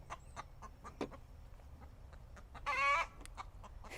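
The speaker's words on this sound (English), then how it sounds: "The chicken that's yelling is probably Becky." Hens on a backyard flock squawk and cluck in repeated short calls, with one loud, drawn-out squawk standing out near the end over a steady farmyard background.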